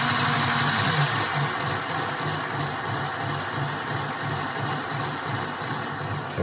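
Hornby R.450 2P LMS black-livery model steam locomotive running on a rolling road, giving a steady electric motor whine and mechanical hum with a faint rhythmic pulsing from the wheels, continuous and close, with no talking.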